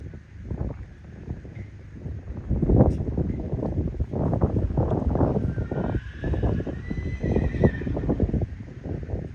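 A horse canters in a dressage-style arena, its rhythmic hoofbeats thudding steadily and close, with wind noise and a brief neigh or whinny partway through.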